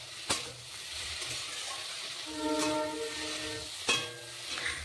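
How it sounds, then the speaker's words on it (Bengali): Winter vegetables with dried fish are stir-fried in a pan, a soft continuous sizzle broken by a few sharp spatula scrapes and knocks against the pan. "সবজিটাকে খুব সুন্দর করে কষিয়ে নেব।"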